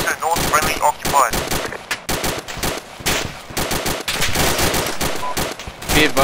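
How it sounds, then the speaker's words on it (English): Sustained M240 machine gun fire in ArmA II, rapid loud bursts of automatic gunfire rattling through the whole stretch with brief gaps between volleys. "be advised we're taking fire from 240 on the ridge"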